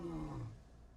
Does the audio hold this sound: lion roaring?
yes